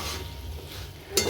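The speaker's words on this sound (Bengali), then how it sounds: "তাই ভালো করে কষিয়ে নিচ্ছি যাতে মশলাটার গন্ধটা চলে যায়" Masala for a chickpea curry being stir-fried in a pan, a steady low sizzle with soft scraping, ending in a brief brighter clink or scrape near the close.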